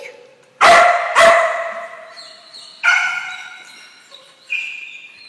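A dog barks in several sharp, loud bursts close by, with two quick barks followed by spaced yips and whining tones, no talk over it.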